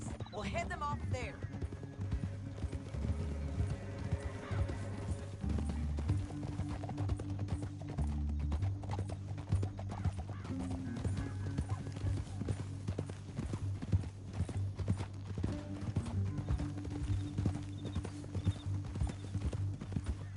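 Horse hooves clip-clop steadily through the whole stretch in Red Dead Redemption 2, set under a dense bed of music and other game sound, with a voice speaking partway through.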